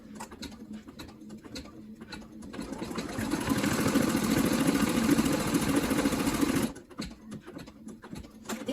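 A sewing machine stitches vertical lines on a manicure case, a fast, even mechanical chatter that builds from light ticking into a sustained, louder run for a few seconds before stopping abruptly.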